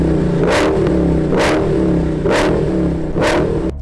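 A Dodge Demon's 6.2 litre V8, making 808 horsepower on race fuel, revs loudly and close by in four evenly spaced throttle blips that rise and fall over a steady idle rumble.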